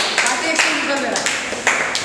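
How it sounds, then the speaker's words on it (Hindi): Children clap together in a classroom, a short burst of quick applause heard close by while a voice talks over it. "ताली बजा दीजिए सभी लोग"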